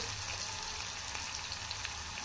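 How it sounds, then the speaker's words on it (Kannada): Chopped onion frying in a home kitchen pan, a steady, soft broadband sizzle with faint crackles running throughout at low level, no voices. "ಇದು ಫ್ರೈ ಆಯಿತು ಸ್ವಲ್ಪ ಫ್ರೈ ಆಗಬೇಕು"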